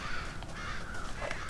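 Crows cawing in Red Dead Redemption, a few harsh, raspy calls in quick succession over a faint ambient backdrop.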